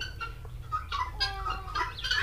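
Hens on a poultry farm with sand bedding give short, close clucks and murmuring calls in an irregular run over a low background hum.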